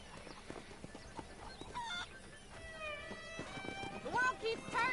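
Horse hooves clip-clop steadily on the ground in the video game Red Dead Redemption, a moderately quiet rhythmic trot mixed with other game sounds and brief voice-like tones.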